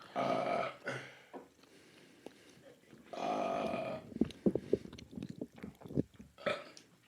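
Two long, loud belches a few seconds apart, followed by short bursts of close-up mouth noises and brief vocal sounds.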